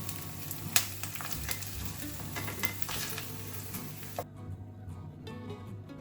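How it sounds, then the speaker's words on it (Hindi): Chicken fries in a pan over a high flame with a steady close sizzle, broken by a few stirring scrapes and clinks from the utensil. "हाई फ्लेम पर ही हम चिकन को अच्छे से 3 से 4 मिनट के लिए पकाएंगे।"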